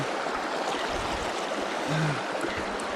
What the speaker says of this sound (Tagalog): Ilog crossing na naman to. River crossing.